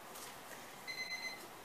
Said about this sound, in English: Oh, there's my alarm.